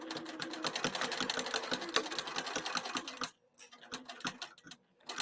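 Sewing machine back tacking a seam on a cross body bag, a fast steady mechanical stitching rattle that stops briefly, then resumes in short quieter bursts.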